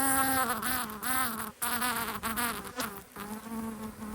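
A dense, continuous buzzing of many honeybees close by around a hive, wavering in pitch as they swarm around.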